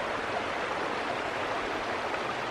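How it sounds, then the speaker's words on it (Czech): A small brook in spring on the Příběnický stream near the Lužnice river, its water babbling and splashing steadily over stones, a dense continuous rush close by with no voices. "jak potůček krásně přeskakuje"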